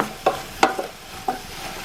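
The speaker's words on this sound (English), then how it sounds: "Give it a good stir." A spoon stirs curry in a pot, with three distinct scraping strokes spaced apart over a soft frying sizzle, close and moderately loud, no talking.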